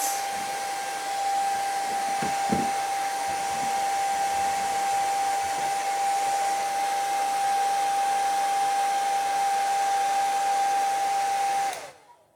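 A handheld dryer blowing steadily to dry a thinned spot on a craft surface, a loud constant whirring hiss with a fixed motor whine, a brief knock early on, then cutting off abruptly near the end.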